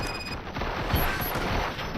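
Gunfire in the RoboCop: Rogue City video game, a dense continuous fusillade of rapid shots and mechanical clatter, loud and close throughout with no pauses.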